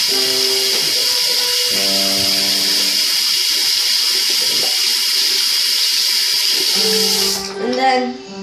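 A bathroom tap runs water continuously for handwashing, a steady loud hissing gush that holds evenly for several seconds before cutting off, followed by brief handling sounds.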